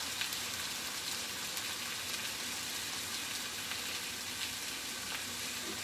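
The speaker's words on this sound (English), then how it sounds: "When you hear that sizzle, you know it's going down in the kitchen." A continuous, even sizzle of lion's mane mushrooms frying in a pan, dense hissing crackle at moderate level with no talking.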